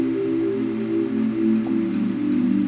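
Omnisphere bell pad synth patch, an eerie ambient tone with steady sustained low bell-like layers that hum and waver softly, alone without voices.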